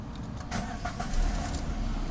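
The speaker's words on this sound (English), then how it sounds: "starting the engine again and run it as usual" A Peugeot 407 engine cranks and catches, then settles into a steady running hum up close, with no talking.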